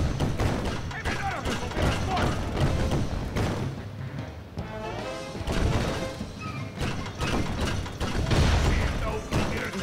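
Cannons fire repeatedly in the Sly Cooper: Thieves in Time video game, delivering a steady barrage of booming impacts and crashes over game sound while a player talks throughout.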